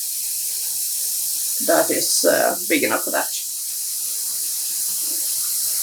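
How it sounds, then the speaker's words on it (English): Water runs steadily as a broad, even hiss into a plastic tub being filled for dyeing yarn, continuous from start to finish, while a voice speaks briefly over it. "so I'm going to be adding in 6 liters of water"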